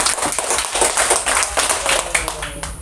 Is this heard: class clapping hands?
yes